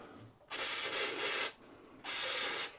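Brake cleaner sprayed into the oil passages of a Stuart engine crankshaft during restoration, two close, fairly quiet hissing bursts of about one second and under a second, separated by a short pause.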